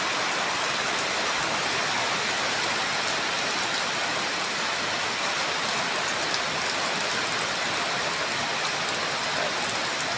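Heavy rain pours down in a dense, loud, unbroken hiss that stays level from start to finish, with no voices.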